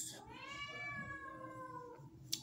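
A cat meows in a long, drawn-out wail with a rising then falling pitch, loud and close, with a faint click near the end.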